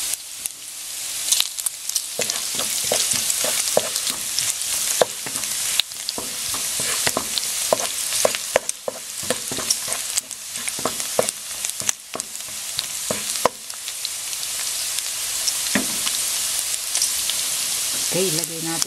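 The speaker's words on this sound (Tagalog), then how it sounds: "igigisa natin. Then hintayin nating mag-brown yung garlic." Garlic sautéing in a pan for ginisang toge, a loud close crackling sizzle with frequent sharp pops and stirring scrapes, continuous throughout with no talk.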